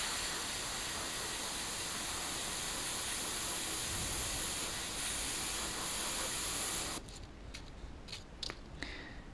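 Paint sprays steadily from an airbrush, aimed at an angle over a mesh stencil on a fishing lure, giving a continuous close hiss that stops near the end, followed by a few faint clicks.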